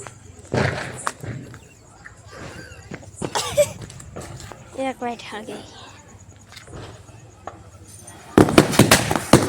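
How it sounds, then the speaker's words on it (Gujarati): Lavingiya firecrackers burst in a village during Diwali, giving several sharp, loud bangs spaced among voices and then a rapid crackling string of pops at the end. "આપણે લવિંગ ગયા મીચવાના છે ફોડવાના છે"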